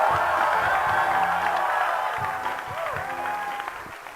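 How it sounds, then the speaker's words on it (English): A church congregation at a prophetic service claps and cheers for Jesus, a loud sustained roar of clapping and voices with whoops that slowly fades while tonal sounds rise over it. "give Jesus a clap of him"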